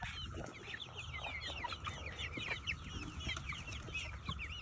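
Hens cluck steadily and softly up close in a farmyard, a busy overlapping chatter of several birds with a constant high insect drone of cicadas behind them.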